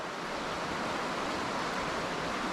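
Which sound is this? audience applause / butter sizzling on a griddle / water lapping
water lapping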